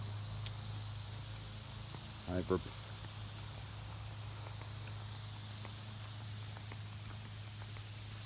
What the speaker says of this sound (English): just these little spray heads that pop up